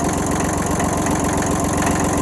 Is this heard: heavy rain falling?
no